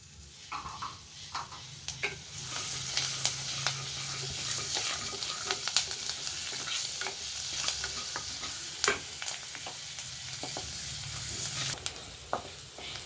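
Fenugreek seeds, garlic cloves and green chilies fry in melted butter with a steady, close sizzle. Sharp crackles and pops from the seasoning break through, and occasional scrapes from stirring can be heard.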